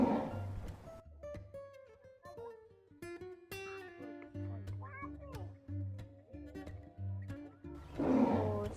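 Lionesses at Terra Natura Benidorm zoo give a long series of deep grunting roars and moans, with clearer outbursts near the start and end, heard at a distance through crowd noise and low voices.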